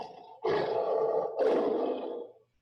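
A lion's growling roar played from a recording, two long, loud rumbling bursts back to back with a short break between, no voices.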